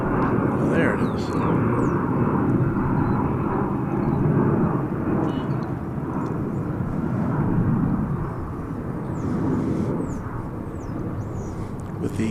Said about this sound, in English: I think there's a plane arriving there somewhere on that screen.